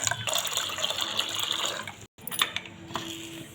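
Barley grains swished and rinsed in water in a kitchen vessel, a close, fairly quiet running-water wash with splashing, a brief break, then a few sloshes and drips.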